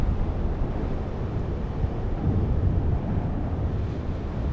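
Steady low wind rushing and buffeting across a microphone over the forests of Sulawesi, Indonesia, a continuous broadband roar with gentle gusts and no other distinct sounds.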